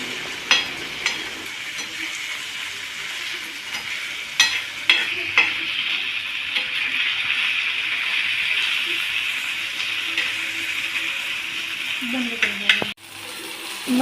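Ginger, garlic and onion sauté in an oil-filled pan for egg biryani masala, a steady loud sizzle with occasional spatula scrapes and clinks, ending in a sharp knock.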